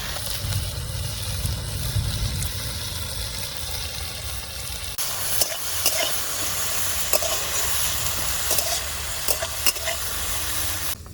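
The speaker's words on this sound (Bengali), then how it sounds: "কমললতাটা খুব সুন্দরভাবে ভাজা হয়ে গেছে" Steady, loud sizzling of vine leaves frying in a hot pan, with occasional stirring scrapes and crackles throughout.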